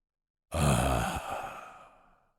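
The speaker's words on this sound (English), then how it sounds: "Breathe this in and exhale with power." A single forceful exhale during a guided meditation is close and breathy, starting abruptly and then fading slowly to silence.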